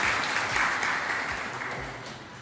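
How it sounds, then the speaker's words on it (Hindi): An audience claps to welcome an honoured teacher at a teachers' award ceremony in Udaipur, a steady, moderately distant wash of applause that gradually fades over a couple of seconds. "ताली बजा के स्वागत करते हैं"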